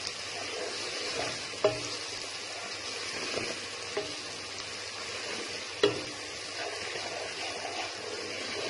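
Mixed vegetables sizzle steadily while frying in a pan, with occasional scraping knocks as they are stirred.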